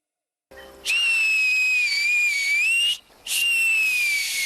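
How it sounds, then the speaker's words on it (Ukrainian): A person whistles two long, clear, high notes, the first wavering slightly and held for about two seconds, the second shorter after a brief pause. "Свисни ще раз."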